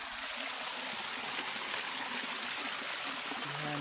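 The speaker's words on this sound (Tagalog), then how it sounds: "So ang lakas ng tubig ngayon dito." A strong stream of water rushes along steadily in a broad, constant outdoor roar at moderate distance, with no talking over it.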